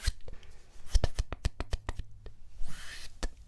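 A voice imitates scissors snipping with a quick run of sharp, crisp clicks, ending in a breathy swish and one last click.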